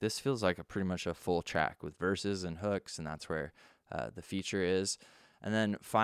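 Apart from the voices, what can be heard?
No everyday noises stand out.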